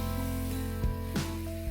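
Minced chicken hits a pan of frying onions and sizzles in a steady, close hiss, with a couple of brief clatters partway through.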